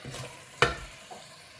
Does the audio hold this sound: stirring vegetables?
yes